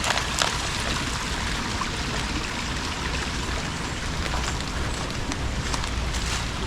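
Drainage water pours from a pipe into a creek, a steady close trickling and splashing flow that continues without pause and with no talking.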